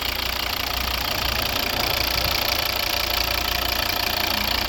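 A 2011 Volvo V60 2.0 D3 diesel with automatic transmission idling, a steady, even engine drone with a faint rhythmic knock, heard alone and close without any talk.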